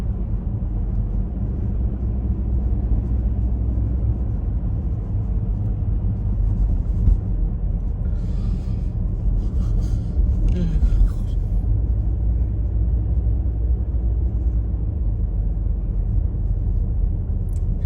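A car freshly fitted with new ignition coils and iridium spark plugs runs on the road, its engine a steady low rumble under constant road noise, with a brief higher rattle midway.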